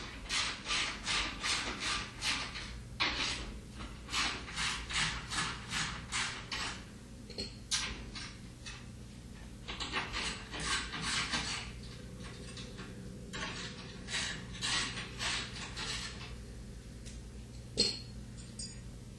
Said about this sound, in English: Using a 1/2" socket, remove the 6 tub to leg screws and plates.